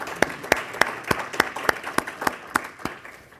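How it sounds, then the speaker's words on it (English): A small gathering marking its first full year of sessions claps in a sparse round of applause, with individual claps distinct and evenly spaced about three per second, fading slightly toward the end. "So give ourselves a round of applause because we have made it through one full year."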